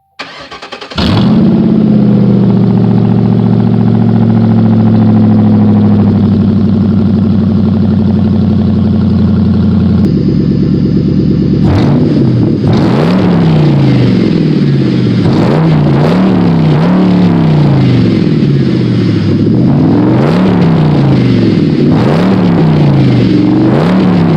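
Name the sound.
Ford Crown Victoria P71 engine cold start after two weeks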